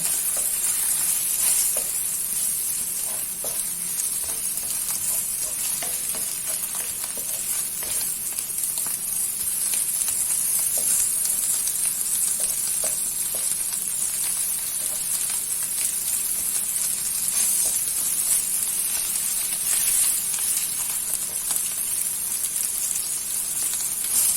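Vegetarian mock pork (mu sawan jay) frying in hot oil, a steady loud sizzle with crackling pops that holds unbroken throughout, no talking over it.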